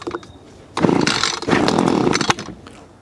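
A small two-stroke Echo PB-2520 handheld leaf blower engine sputters to life after a pull, revving in two rough bursts with a brief dip between, loud and close.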